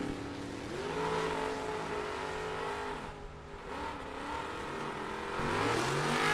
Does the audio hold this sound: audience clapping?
no